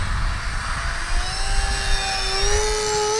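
An Avios Albatros V2 radio-controlled airplane with landing flaps down makes a low, slow pass, its motor a steady droning whine that rises gradually in pitch as it nears, loud and continuous over soft outdoor rumble.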